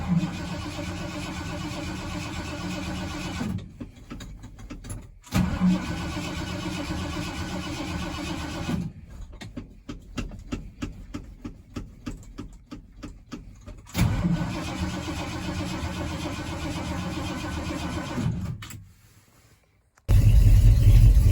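A David Brown 1210 tractor engine with a faulty electric choke cranks repeatedly without catching, three long bursts of steady churning rumble separated by brief pauses, loud and close, with no talk.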